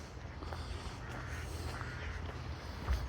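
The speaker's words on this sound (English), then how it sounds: "Birds is going nuts." Crows caw and squabble in the trees of the town hall park in Roissy-en-France, harsh calls repeating at a moderate distance over steady outdoor ambience.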